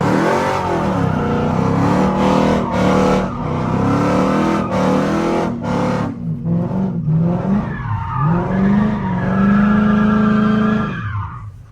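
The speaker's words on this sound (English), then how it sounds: "This is just the only clip that I have to show y'all fully sliding the vehicle." A car fitted with a limited-slip differential sliding under power, the engine revving loudly and continuously with rising and falling pitch, tires squealing as it skids, close and prominent with no talking.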